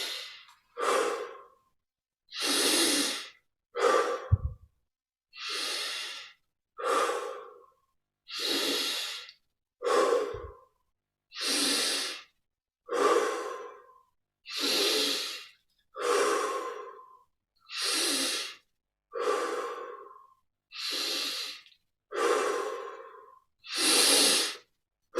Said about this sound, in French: Grande respiration.